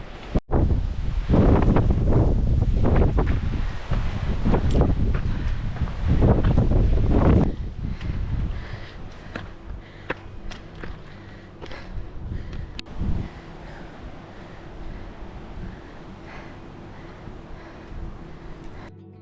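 Strong gusty wind buffets the microphone on a mountain hike up to Mueller Hut, loud roaring blasts for several seconds, then easing into a steadier, lower rush of wind.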